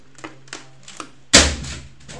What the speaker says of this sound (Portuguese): eu vou quebrar esse teclado aqui de lixo